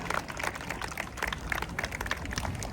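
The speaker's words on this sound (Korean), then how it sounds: "큰 박수로 환영하여 주시기 바랍니다" Crowd applause welcoming the Yeongdeungpo district mayor at the opening ceremony of an amateur and little league baseball tournament, a steady wash of many hands clapping at moderate loudness, with no clear voices.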